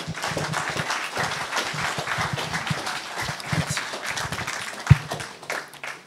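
An audience at a ceremony applauds its president, Monsieur Hardy, with steady, dense clapping from many hands, moderately loud and continuous, with one sharper knock near the end.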